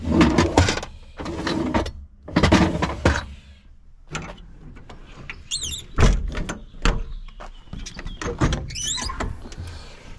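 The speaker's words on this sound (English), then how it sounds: "these are all my hardware drawers." Hardware drawers in a Ram 5500 service truck are slid open and shut several times, giving sharp metallic rattles and thumps with short pauses between, close up and fairly loud with no talking.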